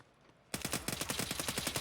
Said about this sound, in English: A volley of shots into the container